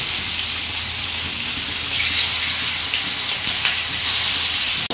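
Fish frying in hot oil gives a steady, close, loud sizzle that grows fuller after the first two seconds and carries on without pause, with no talking.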